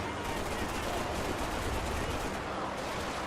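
Sustained, dense automatic gunfire from the video game Max Payne 3, a continuous loud barrage of rapid shots filling the whole stretch without pause.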